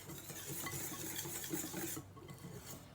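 Chocolate cake batter with flour is stirred in a bowl, a soft, close scraping and swishing that runs steadily and fades slightly near the end.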